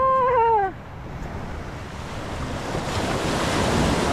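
Ocean waves wash onto a beach in a continuous rushing surf with wind buffeting the microphone, opened by a brief high wavering cry in the first moment, with no talking.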